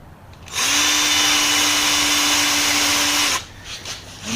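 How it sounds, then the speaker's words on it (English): A power drill drives a screw into the endgate of a 1978 Dodge W150 truck, one sustained loud whine lasting about three seconds up close, with workshop noise before and after. "I've got a little bit on here that recesses the end of the screw. And we're going to put 2 of them in here."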